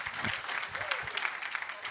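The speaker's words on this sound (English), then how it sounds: "Yes, please applause, sit. Applause." Audience applause at a talk on art, health and wellbeing, a brief burst of moderate clapping from a seated crowd, fairly even throughout.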